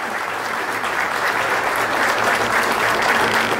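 Sustained applause from a large crowd at a São Paulo state government announcement, steady and loud throughout with no pauses.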